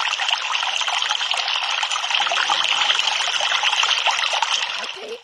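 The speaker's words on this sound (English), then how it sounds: "What is this? The water. This is water." Flowing water in a Roblox obby video game, a steady close trickling and splashing stream that runs continuously and cuts off at the end.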